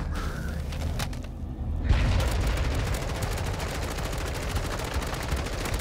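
Rapid, dense bursts of automatic gunfire fill a Warzone video game firefight, loud and nearly continuous, after a brief lull near the start.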